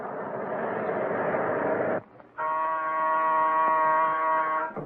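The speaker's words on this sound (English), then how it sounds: "Okay, enough with the alarm already." A loud, harsh buzzing tone sounds for about two seconds, breaks briefly, then returns as a steadier droning electronic alarm.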